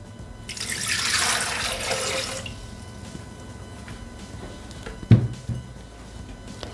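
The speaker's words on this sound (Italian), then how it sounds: "Iniziamo la ricetta mettendo all'interno del boccale l'acqua." Water pours into a Thermomix jug for the first couple of seconds in a steady rushing stream, then quiets to faint dribbles, with a short clunk near the end.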